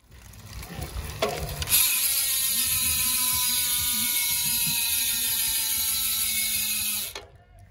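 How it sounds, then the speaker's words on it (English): A rapid, continuous ratcheting buzz from a spinning DT Swiss 240 bicycle freehub on a Santa Cruz Stigmata runs steadily for several seconds before cutting off, close and fairly loud. "let's get a free hub body sound check in on these DT Swiss 240"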